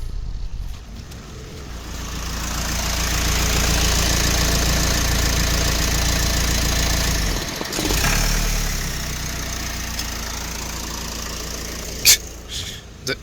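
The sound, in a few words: Renault Espace IV car engine idling and stalling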